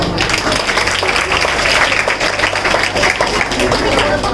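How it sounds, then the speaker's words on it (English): Students applaud together at a school investiture ceremony, a dense, steady wash of clapping that fills the whole stretch at fairly close range. "Let's give them a round of applause."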